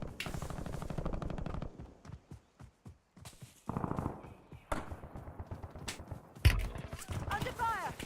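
Bursts of automatic gunfire and single shots in the Call of Duty Warzone video game, mixed with footsteps and other game noise, with voices talking in places.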